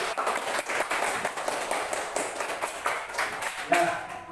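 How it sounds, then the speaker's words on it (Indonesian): A classroom of students clapping hands together, a short burst of quick, uneven claps heard close and moderately loud, thinning toward the end. "Kita berikan tepuk tangan untuk Asri dan Yakin."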